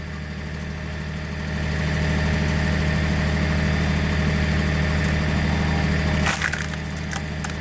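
A Bobcat CT4050 compact tractor idles steadily at 1,500 RPM, a constant low engine drone beside a log splitter working dry elm, with a sharp crack of splitting wood near the end.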